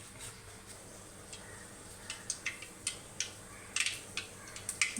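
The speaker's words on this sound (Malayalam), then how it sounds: "കടുക് പൊട്ടുന്നുണ്ട്." Mustard seeds pop in hot oil with a few fenugreek seeds added, a quiet sizzle carrying scattered sharp crackling pops that grow more frequent, some in quick bursts.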